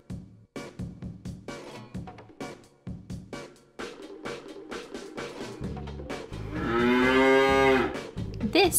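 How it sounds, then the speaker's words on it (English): A cow mooing, drawn out and fairly loud near the end, preceded by a rhythmic children's song beat with light percussion. "This is a cow."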